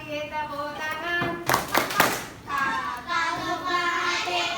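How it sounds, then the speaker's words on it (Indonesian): Children clap along to a sung children's song in a classroom, a short burst of several loud claps in the middle between stretches of singing voices. "Kalau kau suka hati tepuk tangan."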